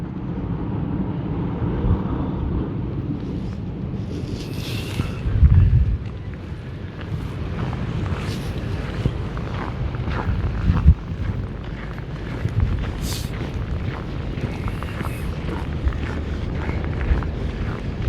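Blizzard wind drives snow across cleared roads in dangerously cold winter weather, a constant rushing roar with buffeting gusts striking the microphone and no talk.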